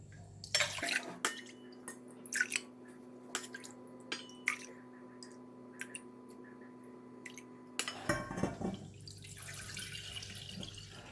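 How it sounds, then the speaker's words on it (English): Coconut water poured into a measuring jug: bursts of splashing and dripping, a long steady stretch with a faint tone, then a fuller pouring rush at the end, close and quiet. "So I'm going to measure 300 ml from coconut water"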